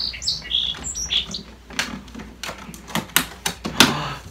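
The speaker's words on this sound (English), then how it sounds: "A bird's making a nest outside my window" Small bird chirping outside a window beside the nest it is building, bright short tweets early on, then a run of sharp tapping and clicking sounds close by, with no talking.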